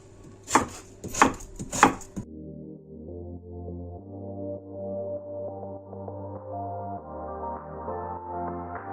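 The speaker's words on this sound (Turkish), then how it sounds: "Hemen soğanları doğramaya başlıyoruz arkadaşlar." Three crisp knife chops through onions strike a cutting board in quick succession, followed by steady background music with no more chopping.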